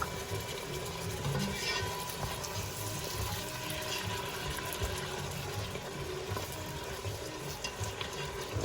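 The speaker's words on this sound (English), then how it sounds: "we're just going to put a little beef broth in here to deglaze it" Beef broth poured into a hot pot to deglaze it for cheesesteak soup, giving a continuous close hiss, sizzle and liquid wash with stirring scrapes.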